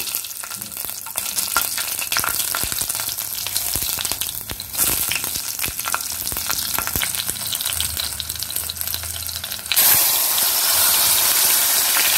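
Green chillies frying in oil with black cumin seeds in a pan over a lowered gas flame, giving a steady, close, loud sizzle with scraping stirs that swells near the end, no talk.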